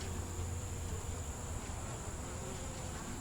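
Honey bees buzz steadily at an open hive, a dense continuous hum with no pauses, moderately quiet and free of voices.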